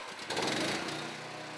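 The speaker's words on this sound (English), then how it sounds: "Now start the auxiliary power unit or activate the power takeoff." Small auxiliary power unit engine on a modular bogie trailer starting and settling into a steady, close mechanical drone with a brief rise in loudness as it catches.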